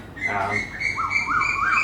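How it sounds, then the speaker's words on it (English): Birds in Thailand sing outdoors, with a rising whistled call repeated three times in quick succession after a brief lower chirping phrase, fairly close and clear against faint background ambience. "Oh, the birds are loving this today. They're singing their little hearts out."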